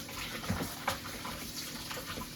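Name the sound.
rinsing chicken pieces under the sink tap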